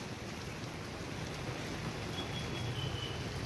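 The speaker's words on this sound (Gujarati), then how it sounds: "ઓહો વરસાદ દેવા જ માંડ્યો" Heavy rain pours steadily as a dense, even hiss that stays constant throughout, with no voices over it.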